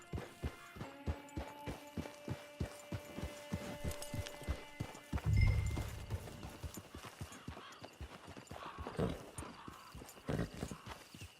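A horse's hooves clip-clop at a steady walking rhythm in the video game Red Dead Online, close and continuous, with a brief low thump partway through.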